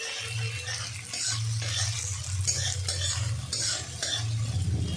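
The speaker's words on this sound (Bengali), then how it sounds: "দিয়ে আমি এবার নাড়াবো যতক্ষণ না কাঁচা গন্ধটা চলে যায় মশলার।" Ginger, cumin and garlic paste fries in a pan while a spoon stirs it close up, with repeated scraping strokes over a steady, loud sizzle.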